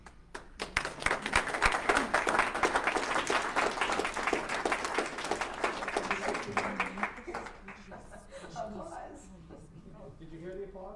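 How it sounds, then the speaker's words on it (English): Audience at a talk on the Knox Mine commemoration breaks into loud, dense applause that holds for several seconds, then thins into scattered claps and fades as the room settles into near quiet. "Did you hear the applause?"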